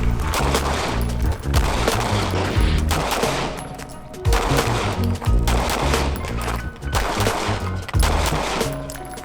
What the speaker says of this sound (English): If you see somebody shooting like that